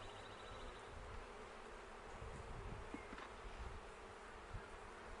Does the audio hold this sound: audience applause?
no